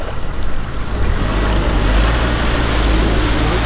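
Jeep Wrangler ploughing through deep muddy water, with a loud, steady churning wash of water and engine noise that swells slightly after the first second and holds constant.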